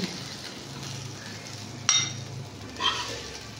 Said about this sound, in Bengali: ঘিয়ের মধ্যে সাবুদানা দিয়ে সাবুদানাগুলো একটু ঘিয়ের সঙ্গে ভালো করে ভেজে নিতে হবে